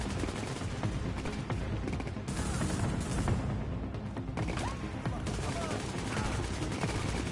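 Submachine gun fire rattles in the video game The Division, dense bursts of rapid shots over a loud, constant battle din, with a voice talking over the action.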